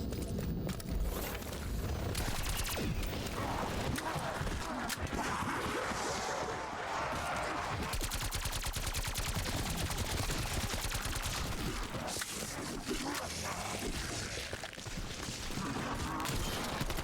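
Rapid AK rifle bursts in the Call of Duty Cold War Zombies video game rattle continuously over a dense mix of game effects and music, steady and loud throughout, with a player talking intermittently.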